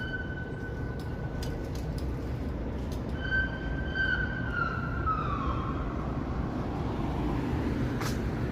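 A distant police siren wails in a slow, sagging, uneven pitch over steady downtown Toronto traffic rumble, fading after several seconds.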